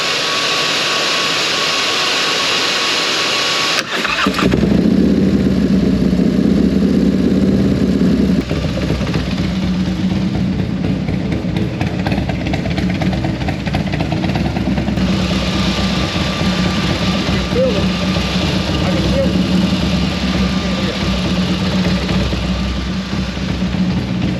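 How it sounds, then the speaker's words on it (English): A Harley-Davidson motorcycle engine starts with a burst near the four-second mark, then idles steadily and loudly with a low rumbling throb for the rest of the clip. "that's how it sounds when I turn the motorcycle on"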